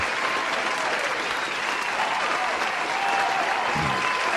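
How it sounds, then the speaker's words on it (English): A burst of crowd applause plays during a live futures trading stream: even, steady clapping with no voices, lasting about four seconds. "I think you deserve an applause"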